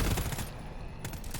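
Rapid turret gunfire in the co-op shooter GTFO, a loud, continuous automatic stream of shots that dips briefly midway and then picks up again.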